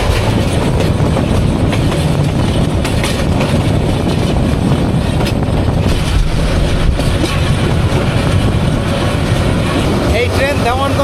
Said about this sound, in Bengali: এই ট্রেন দেওয়ানগঞ্জে গিয়ে থেমে যাবে এর শেষ গন্তব্য।